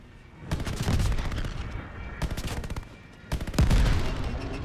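Sustained bursts of automatic gunfire from the World War II shooter Call of Duty Vanguard, rapid crackling volleys that pause briefly and then resume, loud and close with heavy low-end thumps.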